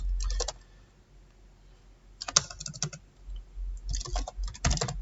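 Code is typed on a computer keyboard in quick bursts of close key clicks, separated by short pauses, with no one talking.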